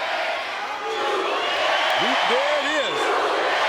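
A wrestling arena crowd roars steadily for the super-heavyweight Mabel during a match against Yokozuna, a dense continuous wall of cheering with whoops rising over it while a commentator speaks briefly on top.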